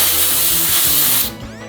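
A compressor air line blasts air into the cooling system of a Mercedes GL450, a loud steady hiss that cuts off near the end.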